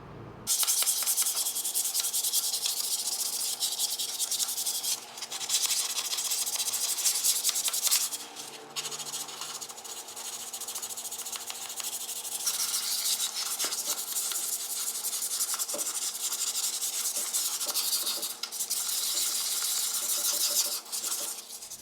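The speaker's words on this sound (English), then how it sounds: "I'll go back and do some light sanding on my wheels" Continuous hand sanding on wooden wheels, a close rasping rub in long strokes that pauses briefly now and then before resuming.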